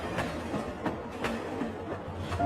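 A cartoon train pulling out of a station, with a soft, fairly distant rolling rumble and a few evenly spaced clickety-clack beats from the wheels, heard alone.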